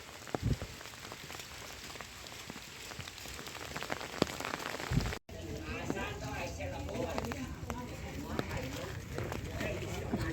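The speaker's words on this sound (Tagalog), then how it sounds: "Ulan na naman." Rain falling steadily while hiking Lion Rock in Hong Kong, a dense close patter of drops striking surfaces, with a brief break midway and speech mixed in.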